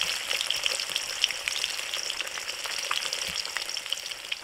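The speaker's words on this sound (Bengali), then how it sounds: "মাছগুলোকে বেশি ভাজার দরকার নেই" Fish fried lightly in oil in a kadai for fish rezala, a constant close sizzle with small crackling pops throughout and no voices.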